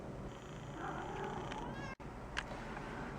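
Cats in a neighbouring building meow a few times, thin and fairly distant, over a steady background hum with a brief dropout partway through.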